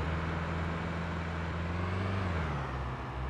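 Car engine in the survival video game SCUM, a loud, continuous low drone with a steady rumbling tone that dips slightly near the end, heard alone without talk.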